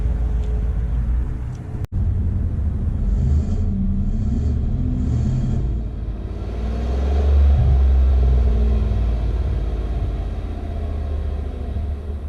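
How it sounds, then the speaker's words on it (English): A 2018 Chevy Silverado 1500 pickup, remote-started, settles into a low, steady exhaust rumble heard up close, swelling briefly in the middle before easing back to an even idle. "hold the remote start button, and it'll start right up for you. And it's kind of got like a nice little low gargle to it"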